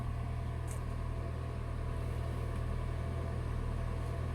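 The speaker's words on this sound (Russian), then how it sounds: "Ну вот, завели Prius десяточку" A Toyota Prius with a 1NZ engine and 292,000 km on it, idling just after starting: a low, even rumble and hum that holds steady and faint throughout, with no other sounds.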